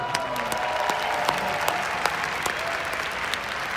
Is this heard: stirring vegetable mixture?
no